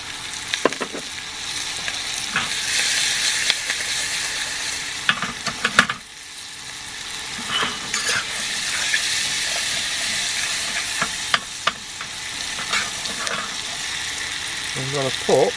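Potatoes, cabbage and onions sizzle and fry in a pan at a campsite, a steady soft crackle with occasional stirring clatter, fairly quiet throughout.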